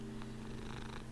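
A cat purring close by, a steady low continuous rumble with faint background music underneath and no talking.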